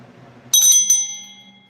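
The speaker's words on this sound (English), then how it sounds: "I'm gonna ring the bell 3 times." A single bright bell rings out sharply, struck twice in quick succession, its metallic tone lingering and fading in a quiet space.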